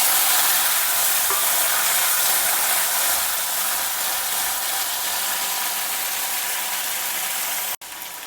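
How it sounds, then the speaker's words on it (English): Boiled chana stir-fried in a pan until the water cooks off, a steady broad hiss of sizzling with faint scraping that holds level throughout and ends in a brief dropout near the close. "Just stir fry it for 2 to 3 minutes so that there is no water in it"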